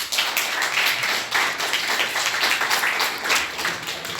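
Schoolgirls at a government girls' senior secondary school in Gurugram clap together during a meditation session, a dense, loud, continuous burst of applause with rhythmic pulses and no talk over it.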